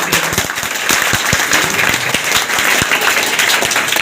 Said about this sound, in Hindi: सारे छात्र छात्राओं का तालियों की गड़गड़ाहट के साथ इनका हौसला अफजाई करें।